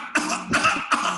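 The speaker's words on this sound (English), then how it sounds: "Can we have a few coughs?" A person coughs three times in a quick, evenly spaced series, close and fairly loud, with no talking.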